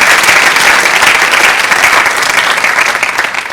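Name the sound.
audience applause at graduation ceremony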